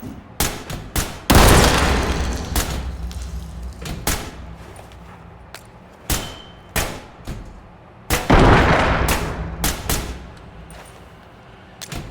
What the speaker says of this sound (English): There's a lot of explosions going on.